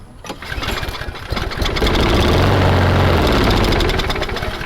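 A lawnmower engine with a faulty carburetor whose bowl does not fill with fuel starts up and runs steadily, a loud close continuous drone that builds within the first seconds and holds.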